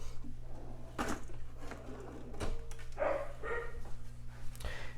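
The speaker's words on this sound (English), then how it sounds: "you hear our little puppy Rufus barking in the background" A small puppy, Rufus, barks a few scattered times somewhere in the house, faint and distant, with kitchen clatter and quiet gaps between.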